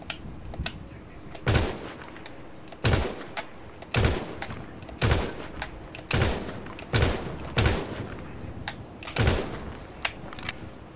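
Gunshots in a role-play video game, fired in sharp, loud bursts about once a second across the stretch, each with a heavy low thump, with no talking.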